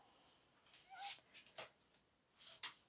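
A house cat meowing during an indoor mixed-media painting session, several soft, drawn-out meows spaced apart, moderately close but fairly quiet, with no talk over them.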